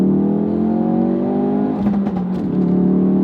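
Ford Focus RS on a flat road, engine note rising steadily as it accelerates, loud and close, with a brief shift in pitch near the end and no talking.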